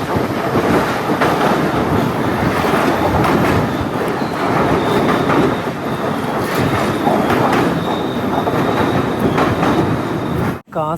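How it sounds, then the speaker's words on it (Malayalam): A train rolls into Kasaragod railway station with a loud, continuous rumble and clickety-clack of wheels over the rails. The sound stays steady at close range, then cuts off sharply near the end. "കാസർഗോഡ് റെയിൽവേ സ്റ്റേഷനിലേക്ക് ഇതാ ട്രെയിൻ എത്തുകയാണ്."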